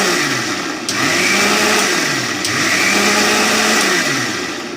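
A kitchen blender grinds spinach into a thick paste with little water, a loud, continuous whirring motor roar that surges and eases in slow cycles throughout.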